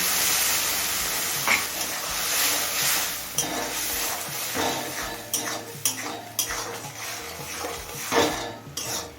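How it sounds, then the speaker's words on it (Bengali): Ridge gourd with prawn head paste stir-frying in a pan, with steady sizzling broken by repeated scrapes and clinks of a spatula against the pan, close and fairly loud with no talking. "এবার মিডিয়াম ফ্লেমে কিছুক্ষণ কষিয়ে নেব"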